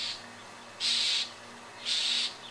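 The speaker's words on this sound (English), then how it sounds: "that bird is going to swoop and try and get you" A bird swooping close to a cat gives two sharp, bright calls about a second apart, loud and near, with quiet background between them.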